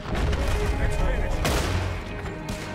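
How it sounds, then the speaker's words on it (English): Rifle gunfire in Red Dead Redemption 2 during a fight with the O'Driscolls, a dense continuous mix of loud shots, booms and rumble, with a sharp crack near the middle and voices mixed in. "Damn, this rifle's good"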